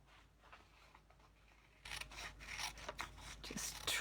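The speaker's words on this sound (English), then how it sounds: "And now all I have to do is bring in my snips," Snips cut through a paper envelope flap: soft rustling handling at first, then a few close, crisp snipping and crunching cuts through the paper, quiet overall.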